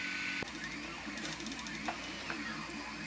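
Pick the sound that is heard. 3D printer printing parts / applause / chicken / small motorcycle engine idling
3D printer printing parts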